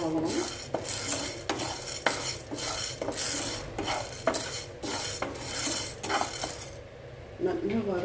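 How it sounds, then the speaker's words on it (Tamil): Urad dal dry-roasting in a pan, stirred with a metal spoon that scrapes and clinks against the pan in a steady rhythm of repeated strokes, close and fairly loud. "உளுந்து கருக விடாமல் நல்லா செவக்க வறுத்துக்கோங்க"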